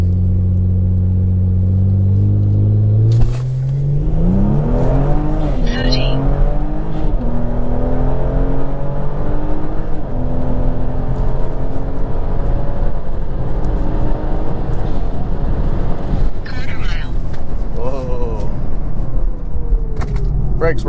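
A Kia Stinger with simple bolt-on upgrades launches hard from a boosted start, its engine droning low before revving sharply through rising gears, loud and close with occasional talk inside the car.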